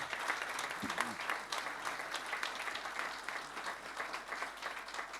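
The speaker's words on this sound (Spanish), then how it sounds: "Y para ellos un aplauso" An audience in an auditorium applauds, steady clapping at moderate distance that continues throughout, with a faint voice briefly heard early on.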